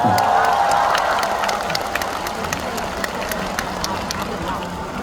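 Concert audience at a Korean fan show applauding and cheering, a dense wash of clapping and crowd noise heard from within the crowd, steady throughout with scattered voices.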